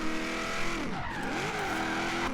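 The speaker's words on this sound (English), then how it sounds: "This engine, it doesn't sound too bad." A Chevrolet Camaro Z/28 in Forza Horizon 3 drones loudly, its engine pitch sweeping down and back up as the car slows and accelerates, with tire squeal mixed in.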